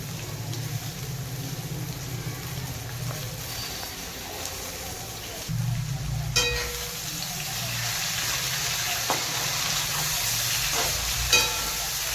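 Cabbage frying in a pan for noodles makes a steady close sizzle with occasional stirring clatter and a low hum underneath, holding throughout.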